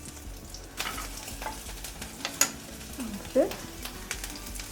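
Cumin, ginger and green chili sizzle and crackle in hot oil in a pan for cabbage and peas sabzi, a steady close fry with occasional stirring scrapes beneath a brief spoken word.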